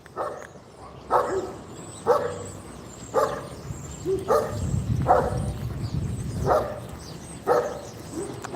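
Dogs bark in a steady, repeated run of sharp, mid-distance woofs, roughly one per second, with short gaps between them.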